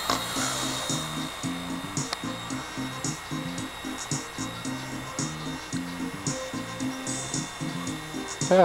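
A Blade mSR model helicopter spins up with only one rotor blade, giving a steady whirring hum with a pulsing, uneven throb that carries on throughout at a moderate level.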